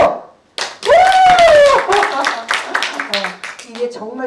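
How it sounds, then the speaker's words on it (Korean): Group clapping at a laughter-therapy lecture during a farmers' association workshop, sharp close hand claps mixed with loud voices and laughter rather than heard alone. "박수!"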